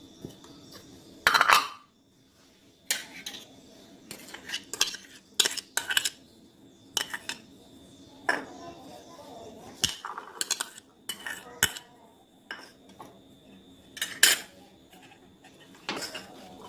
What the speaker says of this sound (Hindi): अब इन्हें मिक्स करते हैं।